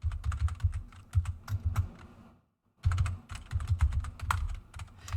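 Rapid typing on a computer keyboard, close and crisp, with dense irregular key clicks running steadily, a brief pause midway, then resuming at the same pace; no voices.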